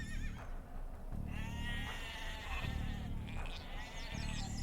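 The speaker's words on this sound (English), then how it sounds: "More sheep." Several sheep in Age of Empires II: Definitive Edition bleat repeatedly over a low rumbling background, their wavering cries overlapping and coming in short bursts, fairly close.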